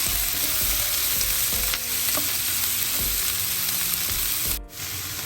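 Onion and green chillies frying in a pan for an egg masala, a steady close sizzle with a few light stirring scrapes and a brief dip near the end, with no talking.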